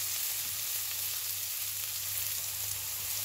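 Carrots, peas and raisins fry in a pan for a biryani, giving a steady, even sizzle close by with no breaks.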